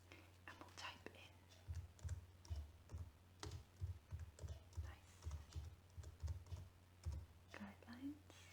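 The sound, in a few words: typing a search into Google on a keyboard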